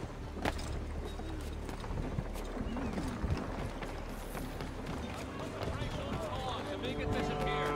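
Rapid rhythmic hoofbeats of a galloping horse in Assassin's Creed III run through the whole stretch, a steady clattering patter with faint talk mixed in.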